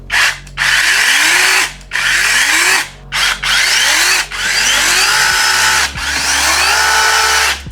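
A small ProCraft PKA 44 battery-powered mini chainsaw pruner runs in loud, close bursts, its motor whirring up and cutting out repeatedly in a start-stop rhythm, with no talking.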